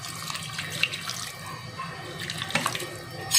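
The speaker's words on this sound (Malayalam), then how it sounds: "ആവശ്യത്തിനുള്ള വെള്ളം ഒഴിച്ചു കൊടുക്കാം" Water pours steadily into a cooking pot while preparing a dried prawn and raw plantain curry, a continuous close splashing stream with a few brighter splashes and clinks, no talking.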